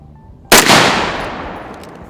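A single sharp gunshot cracks out loudly at a shooting range after a quiet moment, followed by a long decaying echo rolling away across the open range.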